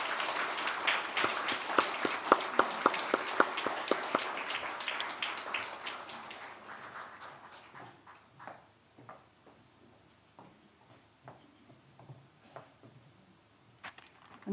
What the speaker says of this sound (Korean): 우리 격려의 박수를 한번 보내드렸으면 좋겠습니다